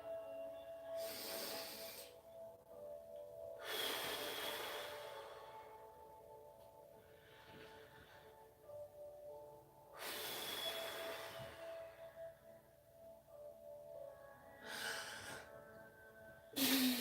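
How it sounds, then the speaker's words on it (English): Slow, deep breaths during yoga practice, several long airy inhales and exhales spaced a few seconds apart, close and quiet against a hushed room. "So we're just going to start by breathing."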